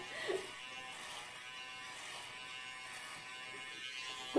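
An electric shaver runs over a man's beard, giving a faint, steady low buzz that holds through the moment with a couple of brief louder knocks.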